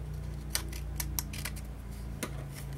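Scissors used for scrapbooking snip through paper several times, with a few crisp, sharp cuts rising over a steady low hum in the room.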